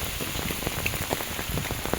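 Dense, steady drumming of heavy monsoon rain strikes an umbrella held overhead amid Konkan rice fields, a close, unbroken patter of drops.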